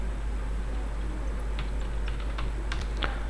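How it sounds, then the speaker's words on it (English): Soft clicks of a computer keyboard begin midway through, a short burst of scattered keystrokes heard faintly over a steady room hum. "Let me type another name."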